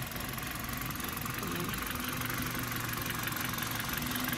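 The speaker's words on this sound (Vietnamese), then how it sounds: "Máy nổ rất êm nha." Kia Carens 2010 with a 1.6 engine and manual gearbox idling smoothly, a steady low hum and faint rhythmic knock, close and constant throughout.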